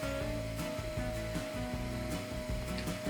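A large shop vacuum sucking up lightweight scenery ground cover material drones loudly and continuously at close range, with a steady whine and slight wavering as debris rattles through the nozzle.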